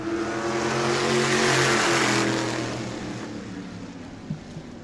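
Modified race cars battling on an oval track at night, engines droning loud and close as a pack sweeps past, the roar swelling then fading into the distance.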